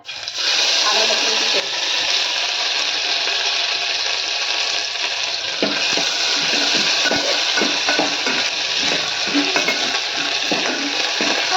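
Cabbage manchurian pieces frying in hot oil in a home kitchen give a loud, steady, continuous sizzle, with occasional stirring clinks underneath.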